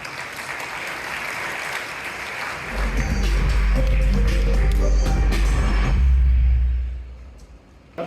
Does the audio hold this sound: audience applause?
yes